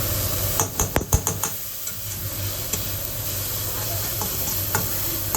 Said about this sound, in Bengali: চিকেন, পেঁয়াজ, ভেজিটেবল সমস্ত কিছু দিয়ে একটু হালকা করে ফ্রাই করে ভাজিয়ে দেবো